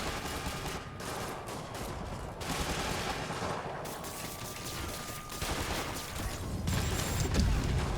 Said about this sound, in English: Okay, you need to stop shooting me with rockets.